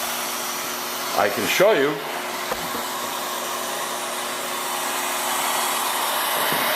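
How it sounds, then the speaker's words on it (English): A DeWalt heat gun stripping varnish from a 1937 20-foot Lyman boat blows with a steady, even airy whoosh, and someone talks briefly over it near the start. "DeWalt heat guns"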